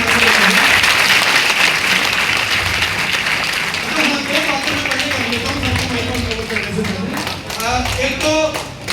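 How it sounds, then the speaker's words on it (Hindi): Loud, sustained audience applause fills a meeting hall, dense clapping from a large crowd running continuously with voices and cheers mixed in, easing slightly midway before swelling again. "एक बार जोरदार तालियां सबके सामने।"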